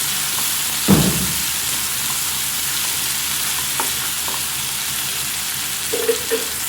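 Onions and chopped tomatoes frying in a pan for gongura dried prawn curry, a steady sizzle with a sharp thud as the tomatoes go in, then occasional scrapes of stirring.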